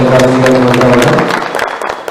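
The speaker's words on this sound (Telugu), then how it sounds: "అందరికీ కూడా గట్టిగా చప్పట్లతో" An audience at a Congress party gathering in Adilabad claps, a burst of applause that runs over a voice on a loudspeaker and fades to a few scattered claps.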